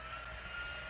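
A heat embossing tool warms up during a stamped tote gift bag craft, giving a steady, loud blowing roar with a fan-like whine that holds unchanged throughout, with no talking.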